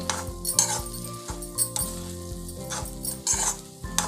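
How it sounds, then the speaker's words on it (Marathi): Pav bhaji vegetables stirred in a pan with a spoon, repeated scraping and clinking strokes against the metal over a faint sizzle, close and rhythmic. "ढवळून घ्यायचं"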